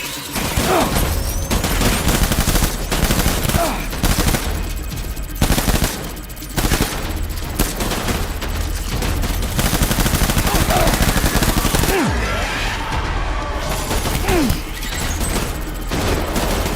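Loud, sustained gunfire in Death Stranding, with repeated heavy volleys and rapid bursts filling the scene, a brief lull near the end before shooting resumes.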